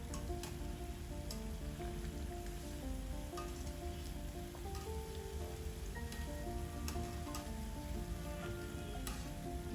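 Urad dal bondas deep-fry in oil over a medium flame, giving a loud, dense, steady sizzle and crackle that continues without a break.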